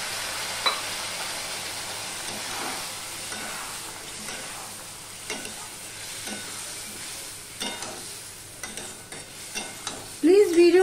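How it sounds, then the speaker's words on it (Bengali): Spice paste of ground coriander and cumin sautéing in a pan after a splash of water, a soft steady sizzle with intermittent stirring scrapes and clinks, louder spatter near the end. "মশলাটা কষানোর জন্য জল দিয়ে দিলাম অল্প"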